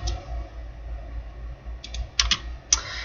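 A few scattered keystrokes on a computer keyboard while an instructor's name is entered into course-creation software, faint and sparse clicks over a low background hum.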